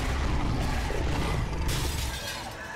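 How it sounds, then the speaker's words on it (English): Enemies bursting into shards of glass in the video game The Wolf Among Us, a dense, bright crashing shatter filling the whole clip with game noise and faint commentary beneath. "they shatter into glass, that's cool."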